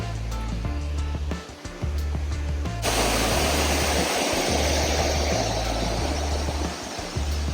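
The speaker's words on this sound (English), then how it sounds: "You can feel the wind coming off that waterfall." Rushing water roars in a dense, steady hiss, with low buffeting rumbles underneath, like a nearby waterfall.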